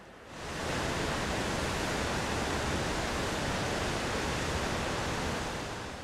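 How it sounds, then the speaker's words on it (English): Beaver Creek Falls in Oregon, a curtain-like waterfall nearly 50 feet high, roaring as a steady, loud, broadband rush that swells in after the first half second and holds without a break. "Beaver Creek Falls is spectacular, no doubt about it."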